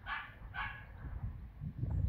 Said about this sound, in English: There's a dog in there yapping away.